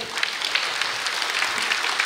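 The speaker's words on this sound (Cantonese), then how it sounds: "我哋再次以掌聲感謝佢哋。" An audience applauds after a mixed-voice choir's performance at a celebration concert, a dense steady clatter of many hands clapping throughout, close and lively with no talk.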